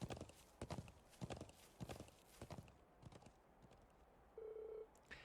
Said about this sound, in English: I'll treat my horse to a longer ride.